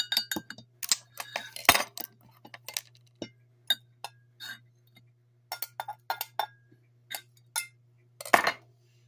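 Spoon clinking against a microwave-safe mug while crushed Thin Mints Girl Scout cookies are stirred in, a quick series of sharp, close metallic taps and scrapes with a low steady hum underneath.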